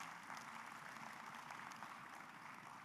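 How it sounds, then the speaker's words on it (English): An audience applauds at a university graduation ceremony in Uganda, with a steady wash of clapping lasting throughout, moderately distant and fairly faint. "You want to give our VC another round of applause?"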